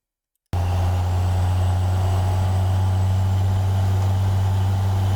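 Steady looped engine sound from a Beier USM-RC-3 RC sound module, a loud, constant low idle-like drone that starts abruptly after a brief silence and holds even for about five seconds.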